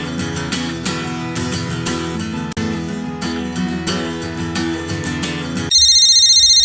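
Electronic phone ringtone beeps in a steady repeating pulse for about a second at the end, right after loud backing music stops abruptly. No one speaks.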